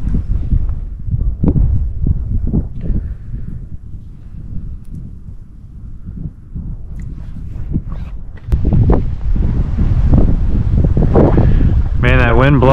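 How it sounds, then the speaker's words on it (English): Wind gusts buffet the microphone outdoors by a shallow creek in Charlotte Harbor, loud low rumbling bursts coming and going throughout, with a brief higher warbling sound near the end. "that wind blowing on my wet hand"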